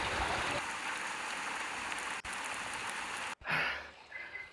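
Steady rain falls outside a toddy shop in Kuttanad, Alappuzha, as an even, soft hiss that runs throughout, briefly cut by two short dropouts near the end.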